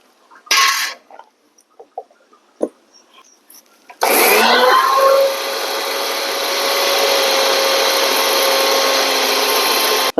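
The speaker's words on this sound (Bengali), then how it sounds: "এবার জল দিয়ে মিক্সারটা করে নেব" A mixer grinder grinds spice paste with water, a loud steady whirring motor that starts abruptly and runs continuously after a few small clatters and knocks.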